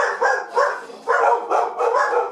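Dogs barking in a quick series of five or six sharp, close barks with brief gaps between them, standing alone against a quiet background.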